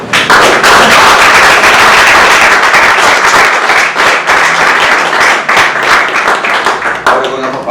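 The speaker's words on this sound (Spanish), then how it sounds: "podemos saludar panelistas con aplausos" An audience at an academic conference session gives the panelists steady, dense applause that stays loud and continuous throughout, with scattered sharper claps.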